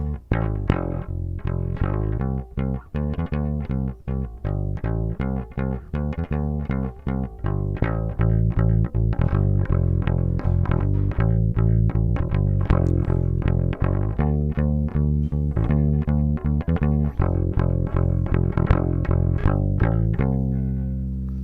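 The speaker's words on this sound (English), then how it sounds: "So this is the sound of the Totally Clean bass." A bass guitar recorded direct with a totally clean tone plays a steady run of plucked notes, loud and close, with a slightly flappy string attack and no voices.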